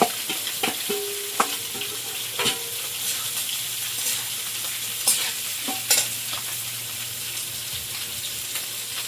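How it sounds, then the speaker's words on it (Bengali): Potatoes go into a pan of fried onion and garlic, giving a steady sizzle broken by sharp stirring and scraping knocks of a utensil against the pan, close and fairly loud, with no one talking. "এর মধ্যে একটু রসুন দিয়েছি, ভাজা হয়ে গেছে। এবার আলুটা দেবো।"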